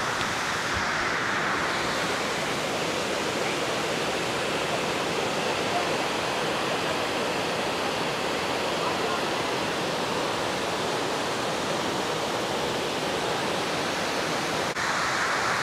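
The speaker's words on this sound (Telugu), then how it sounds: "కరెక్ట్గా తమేరా ఫాల్స్ ఎదురే ఉంటుంది" Tamaraw Falls in Puerto Galera, Philippines, roars as a constant, even rush of falling water, loud and unbroken for the whole stretch, with no clear speech over it.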